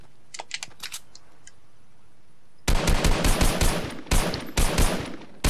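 Gunfire in Fortnite Chapter 2, a few faint distant shots followed by loud, rapid bursts of close automatic fire with short pauses between volleys.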